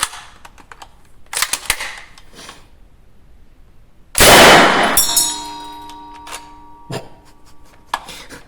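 A single sharp 9 mm shot from an MP40 submachine gun fired at a 75 mm shell indoors, a loud close crack with a metallic ring trailing off, surrounded by small clinks and handling noises.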